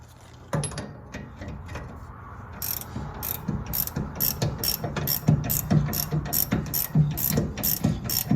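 A ratchet with a short socket drives a nut home on a 1964 Plymouth Fury disc brake swap, giving a close, rapid series of rhythmic metallic clicks in repeated strokes after a brief clunk.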